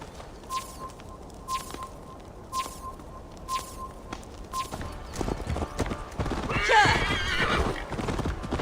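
Hooves clip-clop in an even rhythm as a horse walks, then a frightened mare whinnies loudly in the Viking-era game world, with faint birdsong and ambient noise in the background.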